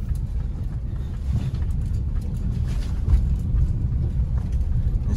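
A car jolts along a broken, rough road surface, giving a steady low rumble with bumps and wind buffeting the microphone throughout, with no talking.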